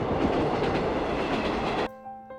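A train in a Makoto Shinkai anime film scene rumbles and clatters loudly along the track, then the noise cuts off abruptly, leaving a quiet tonal hum.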